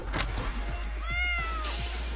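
A cat meows clearly and close by in a series of drawn-out, wavering calls against a steady low hum, with no talking.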